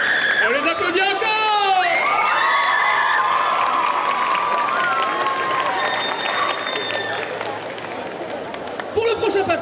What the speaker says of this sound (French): On les applaudit encore!